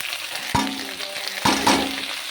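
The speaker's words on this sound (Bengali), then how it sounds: "ফুলকপি আলু ভাজা হয়ে গেছে, এখন আমি দিয়ে দেবো পেঁয়াজ কুচি, কাঁচা লঙ্কা কুচি" Cauliflower and potato fry in a pan as chopped onion and green chili go in, a steady close sizzle broken by a few sharp scraping stirs.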